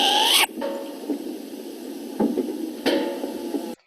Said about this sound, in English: second Pueo call.